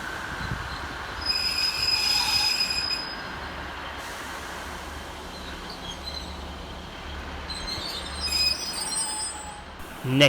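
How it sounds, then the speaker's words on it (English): Transport for Wales Class 150 unit 150-254 arrives to terminate at Cardiff Queen Street, its wheels giving high, thin squeals over a low, steady rumble of rolling stock at moderate distance. "Arriving to terminate with a Transport for Wales service off Cardiff Bay is"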